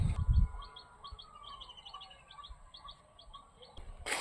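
Recorded dove calls play from a loudspeaker set up in a graveyard to lure doves, a repeating pattern of short chirping notes at a steady rhythm, fairly faint, with brief handling thumps at the start and end.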